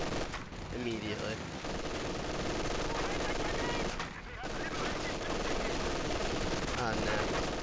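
Rapid machine gun fire from a tactical war video game crackles continuously at moderate level, with a commentator talking over the battle noise throughout.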